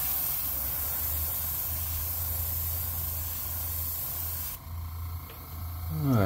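An airbrush spraying paint over the back of an MB S Crank fishing lure in a craw pattern gives a steady close hiss that cuts off near the end, followed by a brief rising whine.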